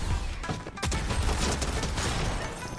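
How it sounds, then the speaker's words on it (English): Gunfire exchanged during a Fortnite Zero Build match, a dense, continuous barrage of shots and impacts layered over game noise, loud and steady throughout with a brief dip early on. "You can hear gunshots being traded."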